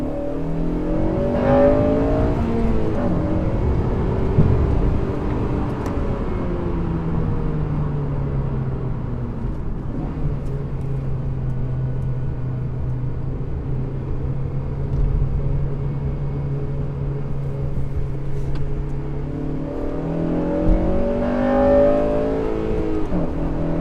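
An 8th-generation Honda Civic Si (FA5) engine rises and falls in revs during driving, a steady loud rumble with pitch sweeping up and down near the start and end and a sustained drone through the middle.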